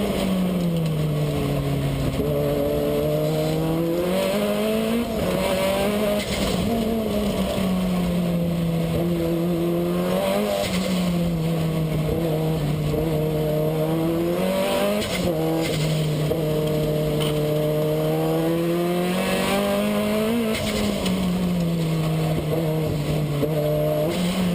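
Onboard view of a race car's engine roaring through repeated upshifts and downshifts on a record-breaking hill climb run at the Easter Monday race meet in Barbados, loud and continuous with rising and falling revs throughout.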